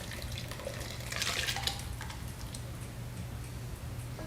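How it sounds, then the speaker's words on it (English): Thick, hot, lumpy tomato enchilada sauce pours and splashes into a glass jar with a soft gurgle, with light clinks of glass or metal, close by and fairly quiet. "So we're going to just carefully pour this in."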